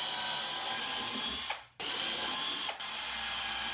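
A 2mm Milwaukee Red Cobalt twist bit bores into walnut with a steady whining drill motor, cut by two brief pauses as the trigger is released, close and moderately loud.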